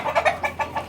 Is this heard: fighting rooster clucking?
yes